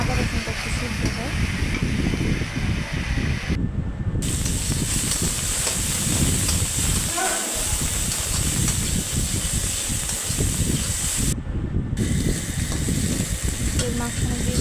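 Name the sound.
spices frying in a pan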